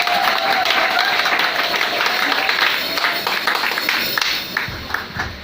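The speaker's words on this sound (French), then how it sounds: "Acclamez très fort pour vous-même." A church congregation applauds loudly, with dense sustained clapping and crowd noise filling the room before gradually thinning toward the end.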